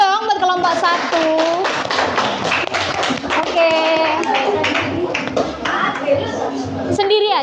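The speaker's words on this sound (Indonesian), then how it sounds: "Tepuk tangan dulu dong buat kelompok 1." Classroom of junior high students clapping together for a group, a dense burst of hand claps with a teacher's voice and children's chatter over it, close and loud.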